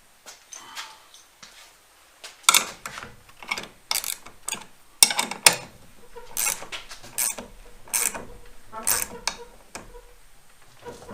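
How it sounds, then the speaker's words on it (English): A long bolt is tightened through a Scag mower part, with a run of clicking ratchet-like ticks and clanks that come in uneven bursts, close and fairly loud. Someone talks over some of it. "So I am going to put a bolt through here, a long bolt, and hold it tight, or tighten it up"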